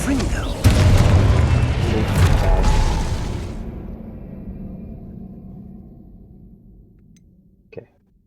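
A Confringo spell in Hogwarts Legacy sets off a loud, booming blast that rolls away over several seconds, followed by a brief faint click near the end.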